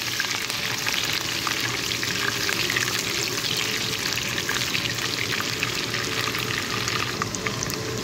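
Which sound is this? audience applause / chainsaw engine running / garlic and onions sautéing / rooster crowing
garlic and onions sautéing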